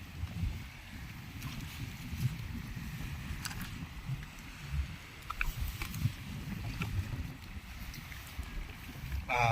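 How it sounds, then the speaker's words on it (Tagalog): Steady wind from the amihan monsoon buffets the microphone at a rocky seashore, a continuous low rumble with gusty swells and faint higher hiss throughout, no talking. "Medyo mahangin kasi amihan ngayon guys,"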